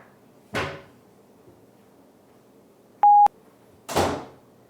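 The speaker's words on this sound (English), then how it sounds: "I'll start when I hear the door close" A door shuts twice indoors, each a single close thud with a short rattle, separated by a brief electronic beep, in an otherwise quiet room.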